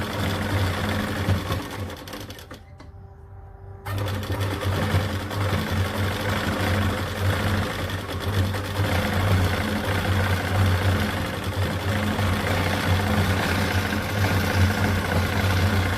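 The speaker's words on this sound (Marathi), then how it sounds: "डबल सिलाई देणार आहोत।" A sewing machine double stitching a blouse runs with a loud steady mechanical hum and rapid needle rhythm, stopping briefly near the start before running continuously again, close and without talking.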